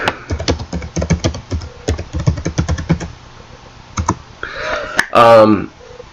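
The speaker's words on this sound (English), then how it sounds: "let me just type here for a second" Someone types quickly on a computer keyboard with dense, close clicking keystrokes, then pauses before a brief burst of voice follows.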